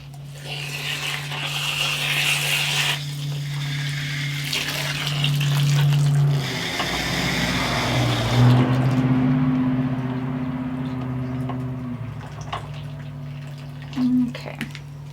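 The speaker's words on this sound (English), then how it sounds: "I do like to just add a bunch of water first, try to mix it together" Water runs steadily from a hose or tap into potting soil in a greenhouse, a continuous gushing splash with some hum in the background that fades toward the end.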